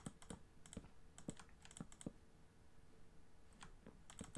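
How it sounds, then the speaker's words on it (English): Computer keyboard typing mixed with sharp mouse clicks during a Minecraft session, quiet, quick irregular taps and clicks in uneven bursts with brief pauses. "there is a lot of clicking unfortunately, and I know that I've got quite a loud mouse"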